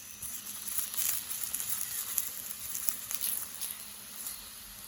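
Stuffed paneer paratha frying in oil on a hot pan, a soft continuous sizzle and patter of spitting oil, faint and steady with no talking.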